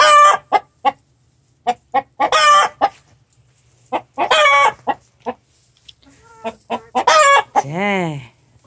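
Hens clucking in a henhouse, a series of close, sharp clucks and short bursts of excited cackling, ending in a rising, drawn-out squawk.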